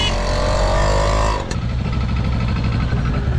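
A 1965 Buick Riviera car engine revving loudly close by, a strong throaty roar that dips briefly midway then settles into a lower idling rumble.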